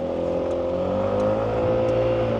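A 125cc liquid-cooled scooter engine of about 12.5 horsepower hums and revs steadily as it pulls away in city traffic, a loud, continuous, slightly rising drone close by.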